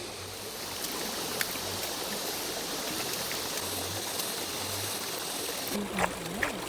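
Bamboo shoots washed under running water, a steady close rush of flowing water with faint splashes and a few small knocks near the end.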